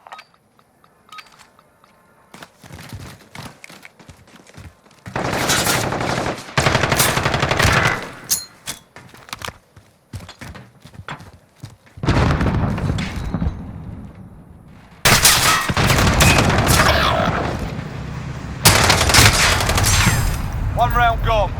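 Rapid automatic gunfire from a Call of Duty match on PS5 comes in loud bursts and dense volleys, with quieter gaps between them and some talk mixed in.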